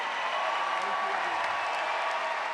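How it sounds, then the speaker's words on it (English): A crowd at a Europe's Strongest Man strongman event applauds and cheers in a continuous distant roar, steady throughout, as an announcer's voice carries over the arena noise. "let's have a regal cheer for Lawrence Storley."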